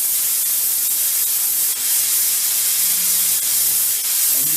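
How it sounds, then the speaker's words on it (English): Steam-only output from a Vapor Clean Desiderio Plus steam cleaner, without water injection: a loud, steady, close hiss of dry steam that holds continuously with only brief dips. "That's steam only."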